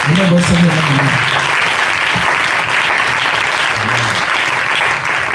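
A church congregation at a Pentecost jubilee applauds loudly and continuously, with a dense wash of clapping and voices rising over it.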